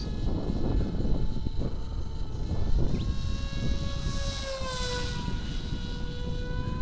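A NanoWing 600mm FPV race wing's electric motor whines at half throttle, a loud steady buzz with rising and falling tonal pitch and rushing wind noise, heard alone.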